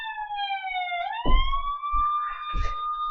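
A police car siren wails steadily, its rising and falling tone holding up close and loud, while a few dull thumps and rustles sound beneath it.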